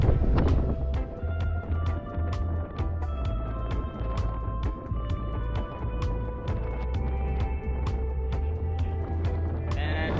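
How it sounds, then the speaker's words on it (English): Steady wind buffets the microphone out on a cruise ship's open upper deck by the Sunset Bar, a constant low rumble with gusty roar throughout and faint background murmur, while rapid regular clicks tick through. "I apologize if it's a little windy"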